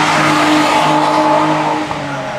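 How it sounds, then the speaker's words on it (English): A small car driving noisily past on a mountain road near an active volcano in Japan, a loud, sustained engine roar with some tire noise that fades slightly toward the end. "That little car shouldn't be making that much noise."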